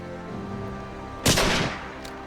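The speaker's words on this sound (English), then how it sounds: "it is still a nice gun. They did a custom sound for it" A modded gun in the video game Fallout 4 fires with a custom sound: one loud, sharp blast with a short fading tail that rises out of a steady droning background.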